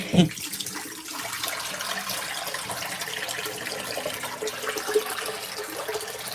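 An LG ThinQ MEGA Ultimate washing machine runs water during its darks cycle with default settings, a steady rushing, trickling flow with a brief knock near the start and another later.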